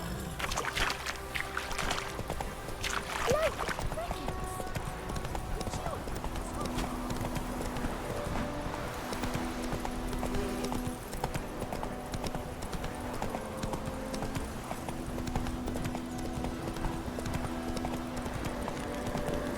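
Horse hooves clip-clop steadily at a gallop in the Witcher 3 video game, loud and continuous, with a whinny near the start and game sounds around them.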